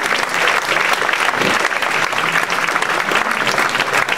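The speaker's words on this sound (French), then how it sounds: "Mesdames, Messieurs, je vous demande d'applaudir chaleureusement l'engagement de Corinne pour notre ville." Warm audience applause at a town hall New Year's greetings ceremony, a dense, steady roar of many hands clapping throughout.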